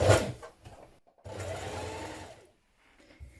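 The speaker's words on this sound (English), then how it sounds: "And we're going to understitch." A sewing machine understitches a seam on a Daisy tunic, running in a short quick burst, pausing, then in a steadier stretch of about a second before stopping, close and moderately loud.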